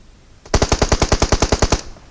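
Rapid automatic gunfire in the shooter game PUBG Mobile, a loud, close burst of about a dozen evenly spaced shots lasting just over a second, standing alone after a brief quiet lead-in.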